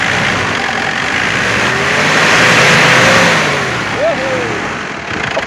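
Ford Everest engine with freshly replaced valve seals revving up and settling back, steady and fairly loud at close range, with a voice speaking over it.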